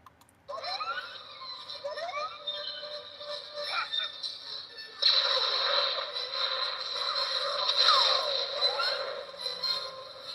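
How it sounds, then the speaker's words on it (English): Star Wars toy electronic sound effect of the creature Boga falling: a tinny, crackly, descending whistle and rushing noise played through a small speaker, sustained for several seconds and growing louder partway through. "And that's the sound of Boga presumably falling to her death."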